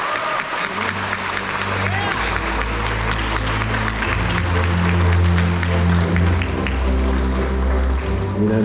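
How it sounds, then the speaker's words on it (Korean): Steady, dense applause from an audience at the exhibition opening for artist Kim Seon-du, congratulating him, with sustained clapping and low music droning beneath. "김선두 교수 정진을 이제 부탁드리면서 박수로 축하드리고자 합니다"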